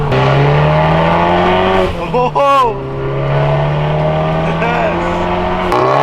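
A 400 hp Volkswagen Golf R is driven hard, its engine revving loudly and close, climbing through the gears with sharp shifts and a brief squeal, while a person exclaims over it.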